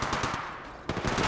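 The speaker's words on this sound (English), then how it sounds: "Yeah, getting shot at." Rapid automatic gunfire in the mobile shooter Apex Legends Mobile, a dense rattling burst that breaks off briefly and then resumes, loud and close.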